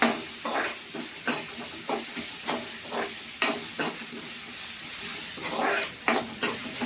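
Salted onions sautéing in a pan for liver fry, with a steady sizzle broken by repeated rhythmic stirring scrapes, close and clear.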